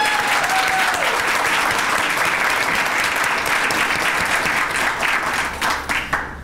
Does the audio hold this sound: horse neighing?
no